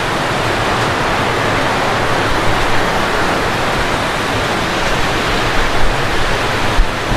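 Strong typhoon wind and rain from Typhoon Kristine under Signal No. 3 roar as a loud, dense, unbroken wash of noise, with a few gusts swelling briefly near the end.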